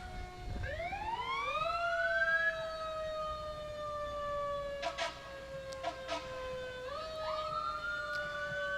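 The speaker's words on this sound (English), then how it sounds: "police motorcycles Right. are escorting the fire engine." A fire engine siren rises and holds a loud, steady wail during a Memorial Day parade, with a police motorcycle escort alongside; short blaring bursts cut in midway before the siren climbs again.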